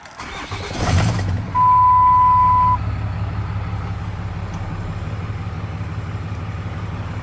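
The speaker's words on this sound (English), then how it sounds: "now let's go and start the engine" A 2007 Dodge Ram 3500 SLT with the Cummins 6.7 diesel and 147,000 miles cranks briefly and catches, then settles into a steady low diesel idle, heard up close, with a short electronic beep from the cab just after start.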